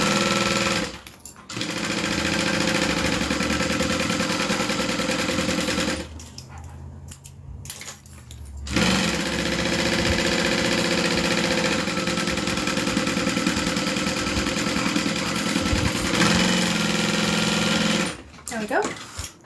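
A sewing machine stitches down seams on an Aries bag with modifications, running in long steady bursts broken by short pauses, loud and close, with occasional talk over it.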